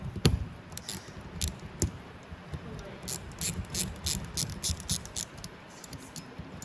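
A hand ratchet tightens a part on an Arctic Cat Panther snowmobile, giving a run of quick, close metallic clicks in irregular bursts with faint low-level noise underneath.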